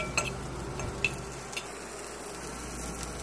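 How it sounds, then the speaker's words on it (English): Polish sausage and sauerkraut fry in a pan with a steady close sizzle, broken by a few sharp utensil taps and stirring scrapes. "I'll put it right there while that's still frying over there."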